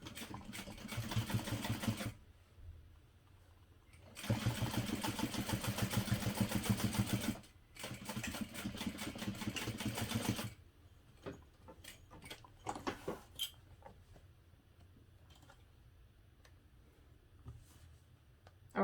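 A sewing machine stitches Tex 70 bonded polyester thread over pressed-flat darts on a parachute knapsack, running in three steady rattling bursts with short pauses, then falling to quiet handling clicks.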